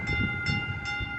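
A new electric Caltrain train rolls in, its steady tonal hum and hiss filling the short moment with a rhythmic low rumble of wheels beneath, loud and close.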